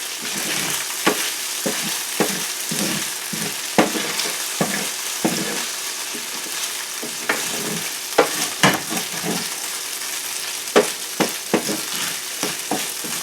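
Tofu frying in a pan, with a steady sizzle broken by frequent sharp pops and crackles at irregular intervals, close and fairly loud.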